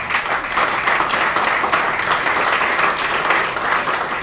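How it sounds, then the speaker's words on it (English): Audience applause for a panel at a leather-industry sustainability workshop, steady continuous clapping from a crowd filling the whole stretch, moderately loud and without talk. "first an applause for this panel"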